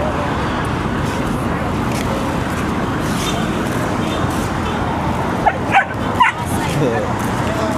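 On Ipanema Beach in Rio de Janeiro, a dog eager for a ball gives a few sharp barks over steady surf and crowd noise, while someone talks throughout.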